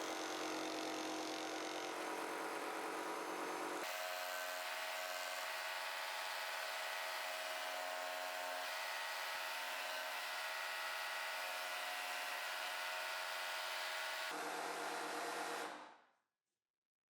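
A jigsaw mounted in a homemade table cuts an interior square in wood, its motor giving a loud, steady whine with saw rasp. The pitch shifts partway through as the load changes, and the sound stops abruptly at the end.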